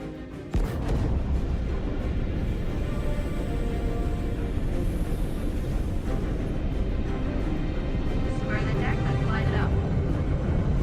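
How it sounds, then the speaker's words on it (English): A continuous heavy roar and rumble of a spacecraft launching off a carrier deck in the game Star Citizen, loud and sustained throughout, with voices mixed in. "hold on as you're launched off the deck of the carrier"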